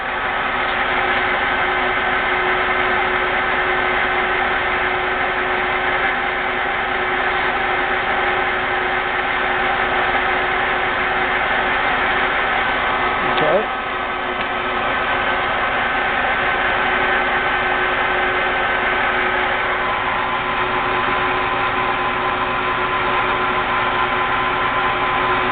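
A 12 x 36 inch 18-speed metal lathe running with the cross feed engaged, giving off a continuous steady motor hum and mechanical whine with a faint buzz throughout, close and fairly loud.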